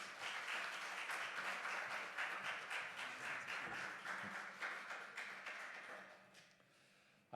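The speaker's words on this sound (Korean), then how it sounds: "나오실 때 큰 박수로 환영하겠습니다." A church congregation at a staff seminar applauds a visiting pastor, sustained crowd clapping that holds steady for several seconds before thinning and fading out.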